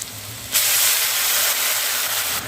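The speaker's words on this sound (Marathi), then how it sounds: "म्हणूनच आपण पाणी उकळत ठेवलेलं आहे" A pot of water boils on the stove with a loud, steady steam-like hiss that swells after a brief quieter start and holds for a couple of seconds.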